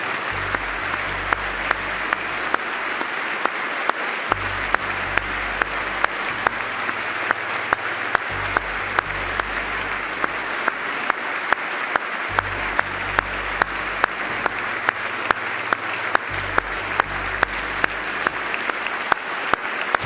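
Sustained audience applause honoring a fallen soldier at a presidential event, steady dense clapping filling the whole stretch without pause, with no speech over it.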